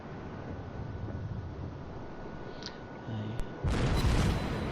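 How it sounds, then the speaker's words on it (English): Main guns of the battleship Colorado in World of Warships: a low rumbling ambience with faint distant booms, then a heavy, loud salvo crashes in near the end and its roar sustains to the close. "So here I take some shots at a New Mexico over there."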